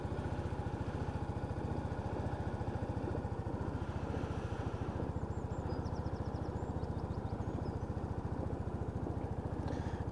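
A Lexmoto Titan scooter engine with a new drive belt and rollers idles at around 1,000 RPM, a steady, even low putter close by, with faint higher chirps in the background.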